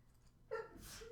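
A single sharp sneeze bursts out near the microphone, a quick intake followed by a loud breathy explosion against a quiet room background.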